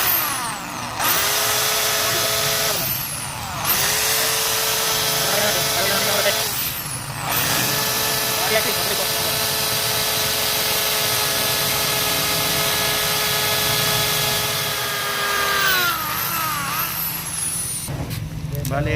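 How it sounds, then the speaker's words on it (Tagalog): A power drill boring out a broken bolt in a motorcycle exhaust elbow, a loud close steady whine held for long runs with short pauses and restarts. "Bali, subukan natin yung babarinahan."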